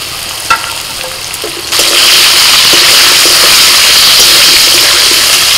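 Pumpkin, pointed gourd and potatoes frying in a pan, a steady loud sizzle that jumps up sharply as the vegetables go in and then holds a dense, even crackle to the end.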